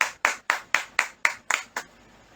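Church congregation claps together in praise, eight crisp, evenly spaced claps in a quick steady rhythm, then stopping, with no voices over them.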